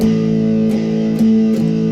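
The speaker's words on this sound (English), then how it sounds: "So the edge of the pick is striking the strings. It gives me a more edgy sound." Sustained electric guitar chords ring out loud, struck with the edge of a sideways-turned pick, sharp, bright strikes giving a scratchy edge to each new strum.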